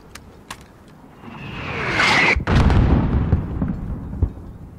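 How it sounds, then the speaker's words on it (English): A whistling incoming mortar round in Call of Duty: Modern Warfare swells into a heavy, close explosion whose rumbling blast lingers for about two seconds, with a few scattered thuds around it. "There's still a mortar out there."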